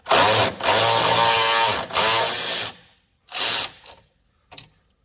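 Power tool loosening an 8mm bolt on a 2003 Ford Thunderbird during fuel filter replacement: two loud sustained whirring bursts, then shorter spurts and a brief final blip, close up with no talking.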